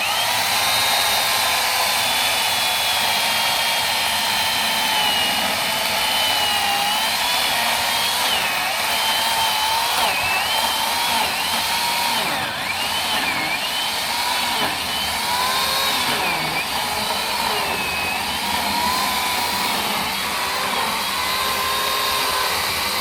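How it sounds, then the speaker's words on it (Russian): A Huter BS 52 petrol chainsaw cuts logs with a loud, steady, high-pitched engine whine that rises and dips slightly as the chain bites through the wood, continuous and close, with no talk. "Бензопила Хутор, модель BS52."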